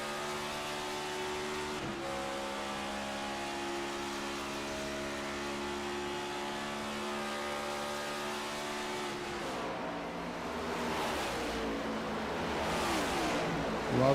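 Race cars lap the Indianapolis Motor Speedway oval, a steady loud engine drone with sustained harmonic whine that shifts pitch near the end as another car closes and passes.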